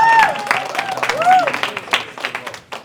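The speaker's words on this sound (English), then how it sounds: "give yourself a round of applause." An audience applauds design teams at a budget design event, a short burst of scattered clapping with voices talking and calling out over it.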